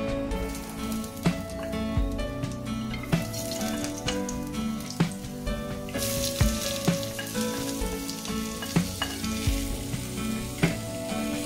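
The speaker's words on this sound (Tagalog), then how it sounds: "tara na po magluto ng sauce ng ating sweet and sour" Sweet and sour sauce sizzling and frying in a pan, a dense crackling hiss with repeated knocks of stirring against the pan, close and steady throughout.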